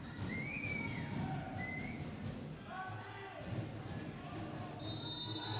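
Short referee whistle blasts sound several times during a Serie A1 men's handball semifinal between Bolzano and Conversano. They cut through steady arena crowd noise and a commentator's voice.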